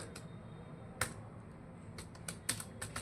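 Someone types on a computer keyboard into an MS Word document: scattered key clicks in irregular bursts with a few sharper strikes, close and fairly quiet, with no voices.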